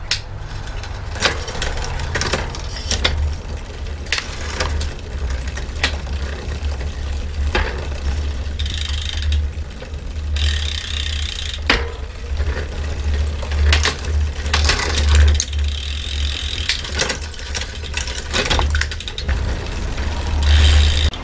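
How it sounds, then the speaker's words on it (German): A retro bicycle's XT front derailleur is shifted through the gears on a test, giving repeated metallic clicks, ticks and chain rattles over a low whirring drone of the turning drivetrain. "Jetzt checken wir die Schaltung, ob sie funktioniert."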